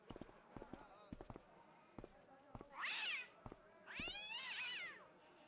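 A cat in the adventure game Broken Sword: The Shadow of the Templars lets out two drawn-out, wavering meows, the second longer, after a stretch of sharp clicks and taps.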